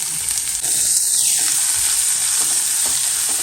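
Two large onions sauté with fennel seeds in an oiled pan for a river-fish curry, giving off a steady, fairly loud frying hiss with occasional soft stirring scrapes.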